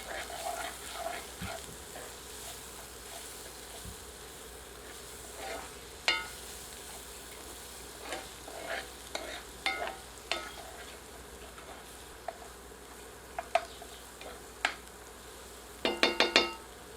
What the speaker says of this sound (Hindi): सबको मिलाकर 2 मिनट मीडियम हीट पर कुक करते हैं।